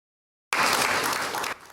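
A burst of dense applause rises at an official installation ceremony in Benin, steady and full for about a second before dropping off sharply.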